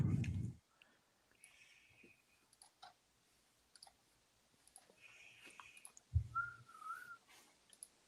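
A person whistles short tonal phrases in a quiet room during an election-night gathering, faint and intermittent, with a few clicks and thumps around it.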